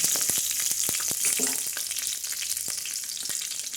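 Fennel seeds dropped into hot oil for tempering crackle and sizzle in a steady bright hiss, with quick pops and a few soft clicks of a spoon against the pan, close up and with no voices.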